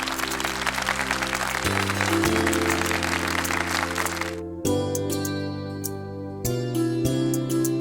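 An audience applauds to welcome a singer at a staged performance, with dense, loud clapping for about four and a half seconds. Sustained musical tones then take over with sparse clicks.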